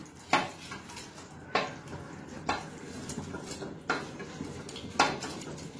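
Cabbage manchurian balls being mixed into a simmering sauce in a pan: a spoon knocks sharply against the pan about five times at a slow, uneven pace, with wet stirring between the knocks and no talking.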